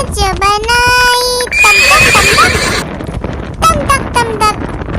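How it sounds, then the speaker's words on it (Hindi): A horse neighs and whinnies loudly in a long, wavering call, followed by shorter whinnies, with a faint clip-clop of hooves beneath, used as a sound effect in a Hindi nursery rhyme. "दौड़ा दौड़ा दौड़ा घोड़ा दुम दबा के दौड़ा"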